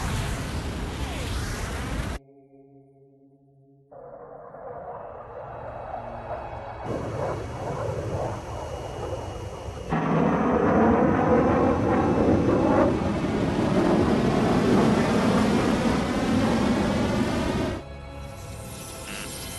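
A railgun fired by an enemy aircraft in Ace Combat 7 roars out in loud, heavy blasts, with abrupt cuts and shifts between sustained booming surges across the stretch, and no voices over it.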